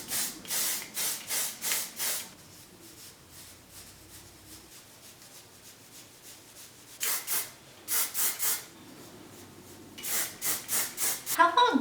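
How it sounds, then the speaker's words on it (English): Hair teased with a comb in repeated quick bursts of scratchy, rasping strokes, close and crisp, in three groups separated by quiet pauses. "I guess we're just gonna tease the shit out of my hair."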